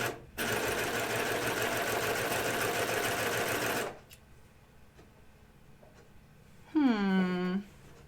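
A sewing machine with a barbed needle runs in a loud, rapid burst for several seconds, then stops, leaving quiet handling noise before a brief voiced exclamation.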